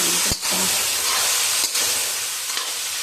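Onions fry in a pan for chicken masala gravy with a loud, steady sizzling hiss that fills the whole stretch. There are slight dips and a few faint stirring touches, and no voices.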